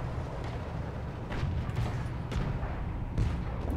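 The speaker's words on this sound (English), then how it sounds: "My puny little 45mm gun." A 45mm gun on a Soviet T-50 light tank in War Thunder fires with dull booming reports, a couple of low thumps rising over steady engine rumble, moderately loud, with no speech.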